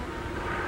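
Forestry Department aircraft flying over fire-scarred mountains and scattering ryegrass seed, a brief, dense, steady engine roar, loud and close with no other sounds.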